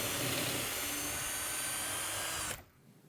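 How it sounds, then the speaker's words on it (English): A power drill whines steadily at high speed drilling a pocket hole in timber through a clamped jig, then cuts off abruptly near the end, leaving a quiet room. "drill down to create the pocket hole."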